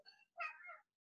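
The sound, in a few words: cat meowing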